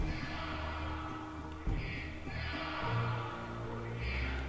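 A horse whinnies twice, with other noise and a faint voice in the background.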